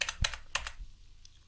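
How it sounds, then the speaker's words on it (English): A computer keyboard being pressed during photo editing: a few quick, light key clicks close by, the first two crisp and then a softer tap, in an otherwise quiet room. "hit Control D on the keyboard to make a duplicate copy"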